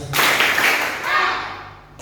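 Schoolchildren in grades four to six clap together twice on cue, a burst of loud, close hand claps filling the room, with voices mixed in around it.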